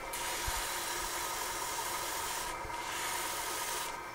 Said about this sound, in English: So I'm going to sand that away.